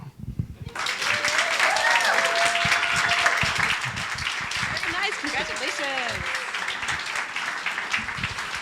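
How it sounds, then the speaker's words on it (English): An audience at an Ignite Talks event at MSU applauds after the talks, a sustained burst of clapping that starts abruptly and carries on steadily, with voices and cheers audible among the claps. "Let's keep up the applause up for all 9 of our speakers this evening."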